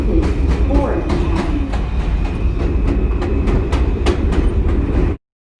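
An NYC subway M local train bound for Middle Village–Metropolitan Avenue runs with a loud, steady rumble and repeated clicking wheel beats, then cuts off abruptly near the end.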